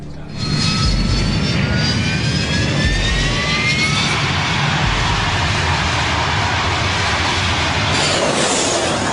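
A Prowler combat jet on a runway roars through its takeoff, a loud, steady, broadband engine blast with rising whine tones that fills the whole stretch without pause.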